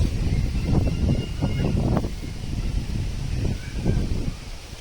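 Strong wind outdoors on a sunny day buffets the microphone in uneven gusts, making a loud, low rumble that continues throughout with no voices.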